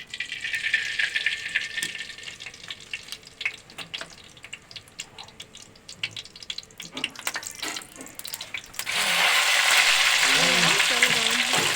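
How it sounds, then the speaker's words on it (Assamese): Mustard oil heats in a wok on the stove, hissing and crackling with scattered clinks, then surging into a loud, steady sizzle near the end while someone speaks briefly. "এতিয়া জুইতে কেৰাহীখন পাতি মই এতিয়া মিঠাতেল দিছোঁ।"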